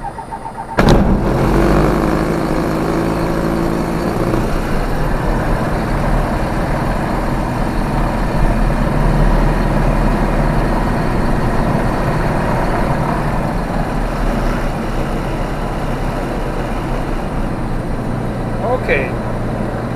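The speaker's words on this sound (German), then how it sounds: "Motor ist kalt, deswegen Choke vollziehen. Das bleibt nämlich nicht. Und Motor starten." A Diamond DA20 Katana light aircraft engine with the choke pulled on a cold start. It cranks, catches sharply and settles into a loud, steady running drone heard from the cockpit, with someone speaking over it.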